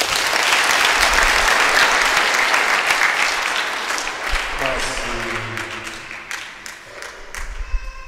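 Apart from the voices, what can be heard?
applause for visiting priests and Christians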